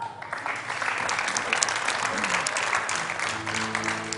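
A studio audience on a Turkish entertainment show claps loudly and steadily, with a voice starting up near the end.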